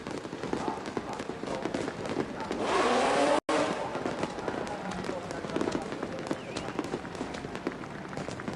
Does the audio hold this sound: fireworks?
yes